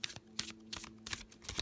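Glossy tarot cards are shuffled smoothly, a rapid run of riffling flutters and soft slaps, close and alone.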